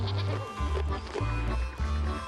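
A goat bleats repeatedly on a farm, loud and close, in several wavering calls with brief gaps, set against wind and faint background noise.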